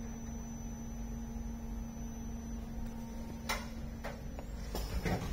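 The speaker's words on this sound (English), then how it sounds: "We've started the machine." A Koh Young 3030 solder paste inspection machine runs with a steady low electrical hum and faint ticking, broken by a few short mechanical clicks and clacks near the end.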